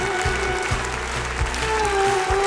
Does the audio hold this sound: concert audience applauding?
yes